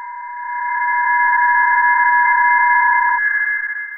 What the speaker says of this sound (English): the sounds you can hear are multiple PSK31 signals